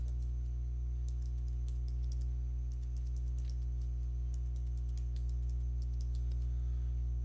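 Keys tapped on a computer keyboard while a Skype ID is entered, irregular light clicks in short bursts over a steady low electrical hum, no talking.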